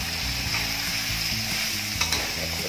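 Pork for moo kapi stir-fries in a hot oiled pan, with a continuous close sizzle and a few sharp scrapes and clatters from stirring near the end, no voices.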